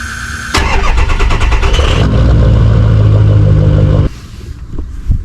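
A diesel engine fitted with a catalytic converter starts and revs through its exhaust, a loud, close, steady roar that holds for several seconds and then drops to a rougher idle, with no voices.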